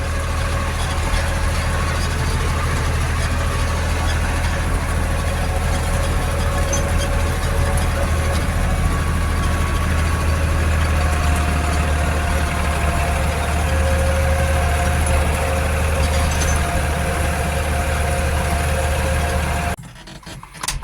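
A New Holland tractor engine idles steadily and loudly at close range, a deep continuous rumble that holds for about twenty seconds before cutting off abruptly.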